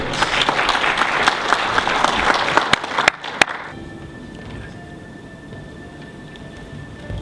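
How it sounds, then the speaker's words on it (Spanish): A church congregation claps loudly for a few seconds, then the applause cuts off abruptly, leaving a quiet room hum. "recibámoslo con un fuerte aplauso"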